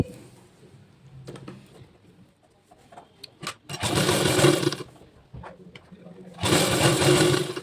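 A sewing machine stitches the folded hem of a palazzo pant, with two loud, close, whirring runs of stitching separated by a pause, following a stretch of quiet handling and talking.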